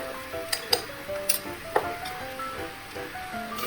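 Ground spices stirred in a cooking pan with a utensil, a few sharp metallic scrapes and clinks over a soft background sizzle, close and moderately loud with no talking.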